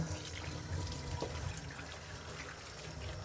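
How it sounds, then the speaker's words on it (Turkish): Tap water runs steadily into a sink as a child's hands are washed, a continuous close splashing wash with no talking. "Gel elini yıkayalım."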